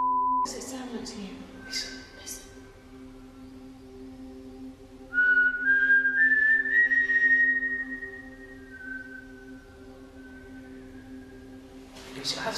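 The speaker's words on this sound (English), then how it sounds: "Can we have another whistle?" A single clear whistled tone rises and holds for a few seconds over a faint steady electronic hum, with brief noises before and after.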